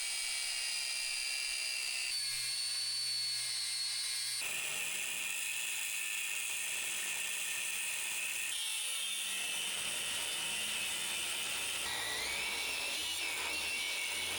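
A high-pitched angle grinder whines and grinds in bursts, cutting rivet heads off an International Harvester Loadstar truck's rear frame, its pitch shifting between passes, with metallic rattling and no talking.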